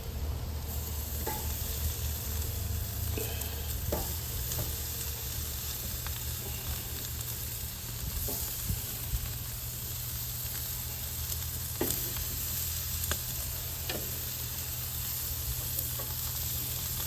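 Lollipop lamb chops sizzle on an outdoor grill over a low fire area, giving a steady faint hiss and crackle with occasional small pops throughout.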